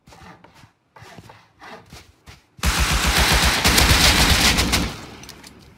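Sustained automatic AK rifle fire in the Rust video game, a loud close burst of rapid shots lasting a couple of seconds after a stretch of quieter, scattered clicks and movement sounds.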